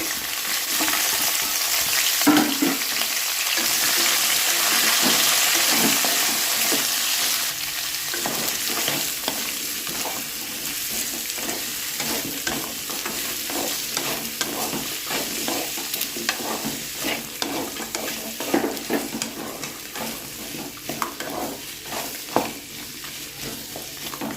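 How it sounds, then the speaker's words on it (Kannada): Tomato and onion frying in a pan, a steady sizzle overlaid with repeated scraping stirs that grow more rhythmic after the first few seconds, close and alone with no voices. "ನಂತರ 3 ಮೀಡಿಯಮ್ ಸೈಜ್ ಟೊಮೆಟೊ, ಹಾಗೆಯೇ 1 ಮೀಡಿಯಮ್ ಸೈಜ್ ಈರುಳ್ಳಿ, ಇದನ್ನು ಕೂಡ ಫ್ರೈ ಮಾಡ್ಕೋಬೇಕು."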